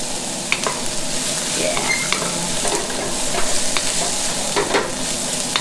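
Onions fry in a pan for lumpia while being stirred, with a steady sizzle broken by scraping and clinking strokes of the utensil; a voice says one brief word.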